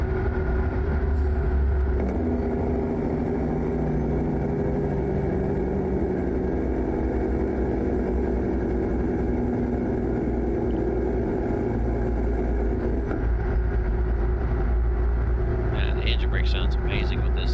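A Case Magnum 380 heavy haul truck engine in American Truck Simulator drones steadily and loudly throughout, a continuous low rumble that holds a near-constant pitch, with faint higher tones creeping in near the end.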